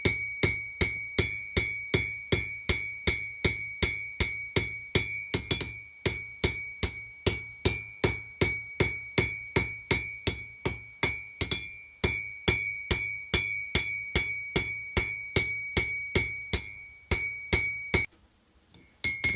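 A blacksmith hammers a hot steel bowl lathe hook on an anvil in a steady, evenly spaced series of ringing metallic blows, loud and close. The strikes continue for a long run before stopping briefly near the end.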